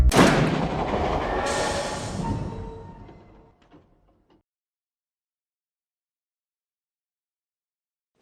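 A San Luis & Rio Grande Railroad passenger train rumbles past with loud rolling noise and scattered squeals and clanks that fade away over about four seconds, leaving silence.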